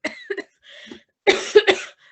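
A person coughs in a few short, harsh bursts, first two quick coughs, a brief throaty pause, then a louder cluster of coughs close to the microphone, with no talking.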